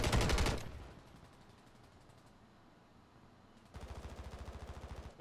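WSP Swarm SMG firing in Call of Duty Warzone: a short, loud burst of fast shots, a quieter gap, then a second rapid burst that is a little softer.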